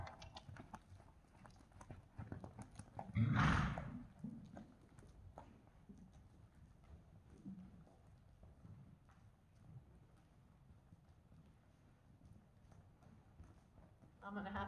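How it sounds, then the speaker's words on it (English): Horse hooves beating in a steady two-beat trot, faint and regular, with one loud burst partway through and a person speaking briefly over the footfalls. "The trot is a 2-beat diagonal gait with suspension."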